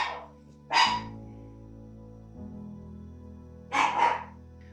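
Dogs in a home bark at nephews arriving from school: a short burst at the start, one sharp bark near the first second, then a doubled bark toward the end, over a steady low hum.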